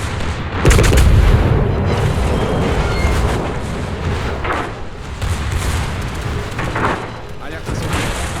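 Heavy naval gunfire from a French large cruiser, the Marseille, in World of Warships: a loud booming salvo opening the clip, then a dense roar of shell fire and explosions rolling on under the game's sound.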